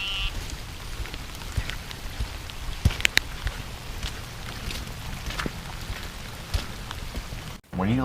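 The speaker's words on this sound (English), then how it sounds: "it's now raining" Steady rain patters softly on surfaces outdoors in a hog-hunting area near a hunting stand, a continuous fine hiss with scattered drop ticks and one brief louder rustle near the end.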